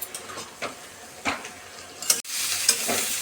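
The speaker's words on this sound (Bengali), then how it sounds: "এখন সুন্দর করে ভেজে নেব" Leafy greens frying with salt and turmeric in a pan, a steady sizzle broken by several scraping stirs, close and fairly loud with no voices.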